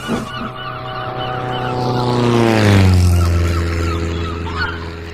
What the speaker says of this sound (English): That plane's making a great deal of noise, said Percy to Oliver.